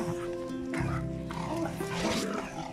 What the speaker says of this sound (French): C'est des chiens de la rue.